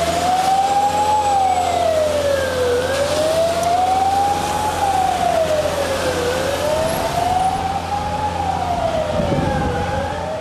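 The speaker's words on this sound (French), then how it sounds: "À 100 mètres du pont Nahangwa, des camions anti-émeutes en provenance du centre-ville arrivent." Anti-riot police trucks arrive during a street protest in Bujumbura, their sirens wailing in a steady rising and falling sweep that holds loud and close throughout, over rumbling vehicle noise.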